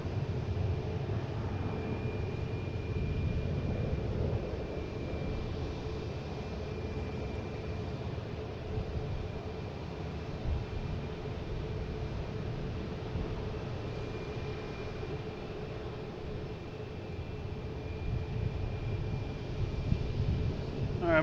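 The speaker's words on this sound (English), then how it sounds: "we have a JetBlue taking off to LAX, an A321" A JetBlue Airbus A321 takes off from Boston Logan, a steady distant jet rumble with a faint tonal whine held throughout, moderately quiet and without talk.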